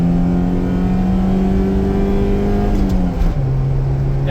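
A Honda Civic wagon engine fitted with a Weber carburetor holds a steady, loud drone near by, its pitch climbing gradually before dropping sharply near the end as the revs fall back.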